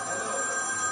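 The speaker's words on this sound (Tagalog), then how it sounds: "Telepono ko yan." A telephone rings with a steady electronic trill, close and clear, with no voices.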